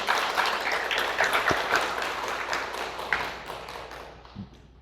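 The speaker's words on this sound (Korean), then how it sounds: "우리 하나님께 영광의 박수를 한 번 더." Steady applause from a church congregation, dense and sustained, gradually fading toward the end.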